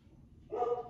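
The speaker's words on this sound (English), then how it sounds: "Got dogs barking." A single short dog bark sounds at moderate distance toward the end of a quiet moment.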